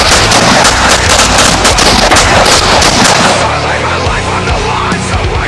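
Loud, dense bursts of gunfire sound effects, rapid repeated shots crackling one after another for several seconds, then thinning slightly toward the end.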